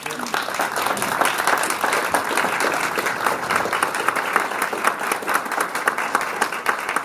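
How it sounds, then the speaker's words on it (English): An audience at a family tribute gathering claps in sustained, dense applause that fills the room, steady and fairly loud, with voices murmuring beneath the clapping. "please rise and give Sabal Singh a big round of applause"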